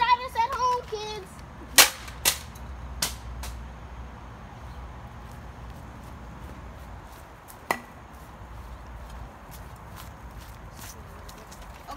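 A baseball bat strikes a Nerf gun in a few sharp, loud cracks, clustered early and then one more after a pause, separated by quiet room tone.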